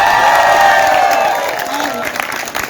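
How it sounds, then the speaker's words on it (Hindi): An audience at a college cultural program applauds loudly to welcome Dr. Kirti Srivastava. The close, dense clapping comes with cheering and is partly overlaid by a sung or spoken voice, then fades a little toward the end. "उनका जोरदार तालियों से स्वागत करिए, डॉक्टर कीर्ति श्रीवास्तव।"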